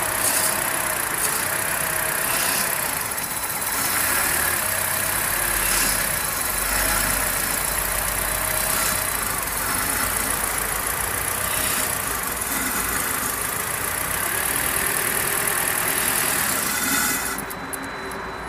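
A car engine idles steadily and loudly during a Liqui Moly throttle body cleaning, a constant low running drone that holds for the whole stretch before cutting at the end.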